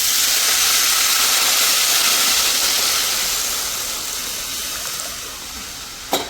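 Gram-flour buttermilk poured into a hot garlic and asafoetida tempering gives a loud, steady steamy sizzle that slowly fades, ending with a brief sharp clatter near the end; no talking.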